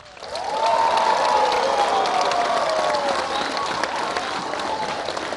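Crowd applauding and cheering to welcome President Barack Obama at a centre launch, a loud, sustained roar of clapping with a rising and falling whistle or cheer carried through it.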